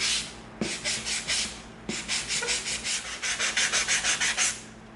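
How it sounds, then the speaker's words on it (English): Rhythmic back-and-forth rasping of a 220-grit sanding stick on EVA foam, close and dry, a short stroke then a pause before a long run of quick, even strokes, with no talk. "now we're going to come in with our 220 sanding stick"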